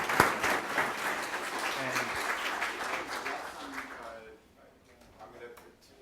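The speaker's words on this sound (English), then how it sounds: "please join me in applause." A forum audience applauds at the end of a special operations policy panel, a dense wash of clapping that fades out toward the end, with a voice briefly heard underneath.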